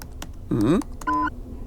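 A few scattered computer keyboard taps in a comedy musical sketch, interrupted by a short warbling tone and a steady electronic beep.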